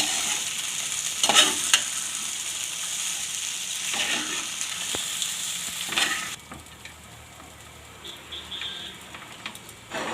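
Raw banana poha being stirred in a pan over a constant dry sizzle. Several scraping strokes come through, and partway in the sizzle drops to a quieter level and stays there.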